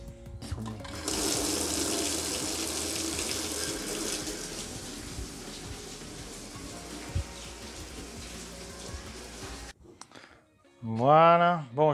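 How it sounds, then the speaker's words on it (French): Water gushes loudly from a reopened faucet on a system with a faulty booster pump for several seconds, then stops abruptly; a brief tonal squeal or voice-like sound follows near the end. "Je vais réouvrir le robinet."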